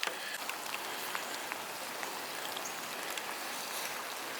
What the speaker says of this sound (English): It's raining outside, I don't want to be out here for too long.